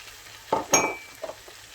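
Vermicelli is tipped into a pot for a chicken and vegetable barley-vermicelli pilaf, making a few quick rustling, sizzling bursts. One sharp utensil clink and softer stirring scrapes follow against a quiet background.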